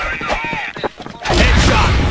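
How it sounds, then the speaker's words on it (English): A flash grenade goes off in a shooter video game, with sharp gunfire bursts first and then a loud, sustained roaring blast that fills the moment. "Flash grenade."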